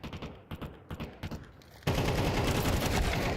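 AK rifle fire in a professional Counter-Strike match at PGL Cluj-Napoca 2025: several short, sharp bursts of close shots, then an abrupt switch to a steady, loud broadband roar that fills the rest of the moment.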